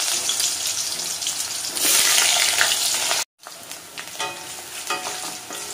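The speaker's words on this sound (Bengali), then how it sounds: "তো আলু মোটামুটি আমি ভেজে নিয়েছি।" Potatoes fry in hot oil tempered with garam masala, cardamom and cinnamon, a loud, steady sizzle with stirring scrapes, briefly cutting out before resuming somewhat quieter.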